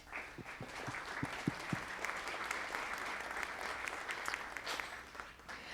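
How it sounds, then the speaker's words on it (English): Audience at an evening architecture lecture breaks into sustained applause, a dense steady wash of clapping with a few sharper individual claps standing out near the start. "So let's give them a round of applause."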